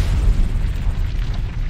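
A deep, booming explosion on the surface of Venus throws off chunks of basalt crust. The loud, low rumble fills the whole moment and rolls on without a break.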